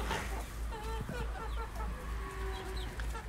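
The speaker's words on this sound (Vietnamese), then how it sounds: "Đây, gà nhà mình ăn đang ăn bỗng nếp cái hoa vàng đấy các bạn ạ." Free-range backyard chickens peck at fermented glutinous rice mash in a garden near dusk, clucking and murmuring softly in a loose, overlapping flock over a steady low rumble, with no talking.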